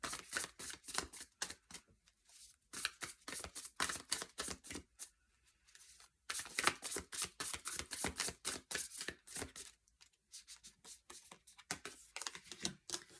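A Light Seers tarot deck is shuffled by hand in quick, crisp bursts of papery riffling clicks, up close and quiet, with short pauses between runs and no speech.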